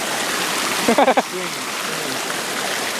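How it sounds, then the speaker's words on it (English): Water in a flowing stream rushes outdoors as a steady broadband murmur, fairly close and continuous, while a person briefly speaks over it partway through. "So, Lane, what do you think of this whole stream? It's really cool."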